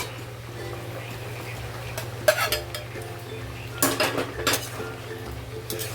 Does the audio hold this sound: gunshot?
no